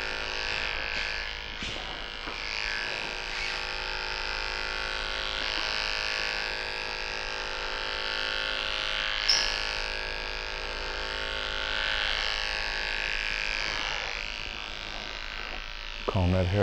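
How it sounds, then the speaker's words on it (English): Electric hair clipper buzzing steadily while trimming men's hair over a comb for a classic cut in a barbershop, a close continuous whine with slight pitch shifts as it moves. "Now I'm gonna go ahead and just fine tune my clipper over comb right up in here."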